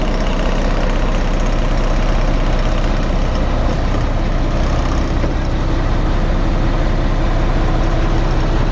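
An M35A2 military truck engine idles nearby, a loud, continuous, even diesel rumble that holds steady throughout without any voices.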